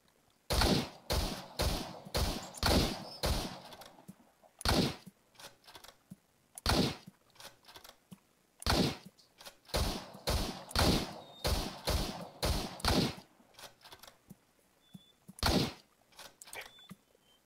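Gunfire in a video game: sharp shots fire in quick bursts and single blasts with short pauses between, loud and close, and no one talks over them.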